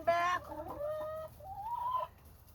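Chickens cluck and squawk close by in a short burst, one hen giving a sharp raised call followed by softer rising clucks, with no talk over them.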